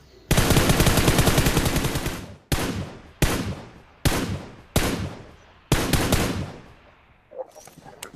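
Gunfire in the mobile shooter BGMI comes as loud, close automatic bursts: one long burst of about two seconds, then several shorter sharp bursts spaced less than a second apart.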